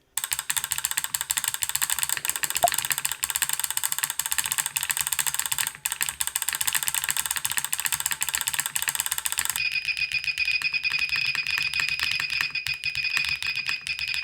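Steady, dense clicking of a mechanical keyboard with an 1800 layout being typed rapidly, a continuous clattery stream with a slight change in tone near the end, no talking.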